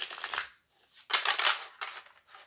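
Three bursts of crisp, riffling tarot card noise from horizontal shuffling, each a second or less, separated by brief pauses, close by with no talking.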